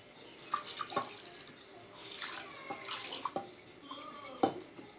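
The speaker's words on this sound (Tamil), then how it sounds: "இப்போ நம்ம தேவையான அளவுக்கு தண்ணி ஊற்றிக்கலாம்." Water is poured into a cooking pot while making tomato kadayal, in several uneven bursts, splashing and gurgling up close, with short pauses between pours.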